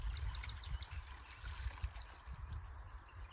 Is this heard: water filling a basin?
yes